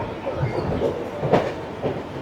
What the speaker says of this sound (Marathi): दुपारची 2:10ची फास्ट ट्रेन मिळाली डायरेक्ट कर्जतला आता